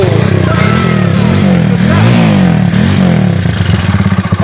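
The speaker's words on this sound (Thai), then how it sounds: "ตอนนี้เครื่องยนต์เดินเบานะ" A motocross dirt bike engine, just repaired for radiator coolant pushing out, idles close and loud with a steady throbbing note that wavers slightly as the revs rise and fall.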